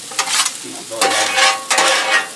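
Egg fried rice ingredients stirred in a hot pan, three loud bursts of sizzling and scraping with short quieter gaps between, close and alone.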